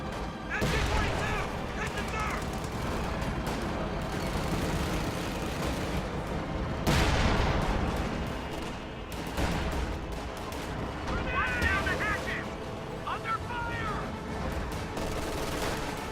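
Rifle gunfire from a video game battle, with dense overlapping shots and bursts crackling steadily throughout a sustained firefight, a few heavier blasts standing out midway.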